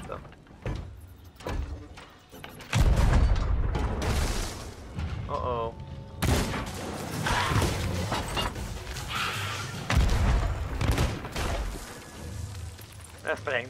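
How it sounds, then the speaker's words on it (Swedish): Cannons shooting skeletons in Sea of Thieves thunder out in several heavy blasts spaced a few seconds apart, mixed with clattering impacts while someone talks over the action. "Använda kanonerna här för att skjuta skeletten."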